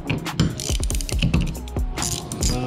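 A ratchet fitted with a 12 mm socket loosens a bolt during a turbo blanket install on an Acura Integra, giving rapid bursts of sharp mechanical clicking close to the microphone.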